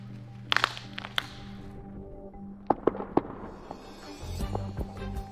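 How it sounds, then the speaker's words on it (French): Airless tires rolling over a bed of nails, giving scattered sharp clacks and taps over a low rumbling engine hum, with a heavier rolling rumble building toward the end. "Et j'ai entendu beaucoup de claquements. Je dois avoir frappé quelques clous."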